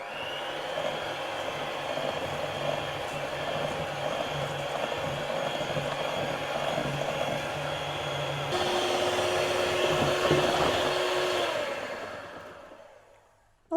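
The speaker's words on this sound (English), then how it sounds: "I'm simply just going to sprinkle this sugar on in one go and then put the mixer on" An electric mixer whisks egg yolks and sugar at a steady, high whirring pitch, running continuously, then rising slightly in tone before winding down and stopping.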